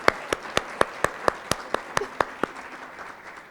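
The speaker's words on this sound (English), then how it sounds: "round of applause," At an academic awards ceremony, the audience claps in a quick, even rhythm, with sharp individual claps over a light background of applause that thins out toward the end.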